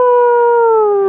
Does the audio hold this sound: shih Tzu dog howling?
yes